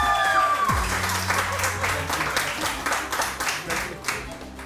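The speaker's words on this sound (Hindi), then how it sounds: "एक मरतबा सलमान खान के लिए तालियां बजाओ।" Studio audience applause for Salman Khan on a Samaa TV morning show, a dense steady patter of many hands clapping at close range, with voices and a brief tonal sweep near the start.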